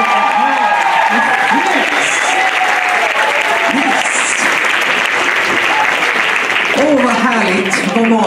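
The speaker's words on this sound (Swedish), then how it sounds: "applåderna, ge dem lite jubel." Audience at a burlesque show applauding steadily, with cheering and whoops mixed into the dense, sustained clapping throughout.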